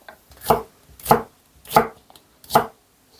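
Knife chopping vegetables for pickles on a board, four evenly spaced firm chops at a slow steady rhythm, close and clear with quiet pauses between.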